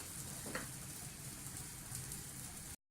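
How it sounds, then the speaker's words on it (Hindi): Potato cutlets with an oat coating fry in oil with a steady, soft sizzle and crackle that runs throughout, without talk, then cuts off at the end. "कटलेट्स हमारे फ्राई होना शुरू हो गए हैं"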